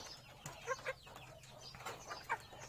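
Free-range ducks kept in a backyard flock, a few soft scattered quacks and clucking calls close by over a quiet outdoor background, with no talking.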